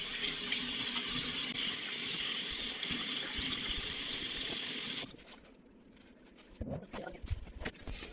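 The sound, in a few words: rinsing face mask out of washcloth under running tap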